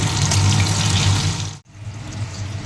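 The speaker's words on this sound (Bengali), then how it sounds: "ওর জন্য দুটো ছোটো ছোটো জাস্ট আলু দিয়েছি ওটা একটু ওগুলো এখন একটু ভেজে নিচ্ছি" Small potatoes fry in a pan with a loud, steady hiss that stops briefly partway through and then returns.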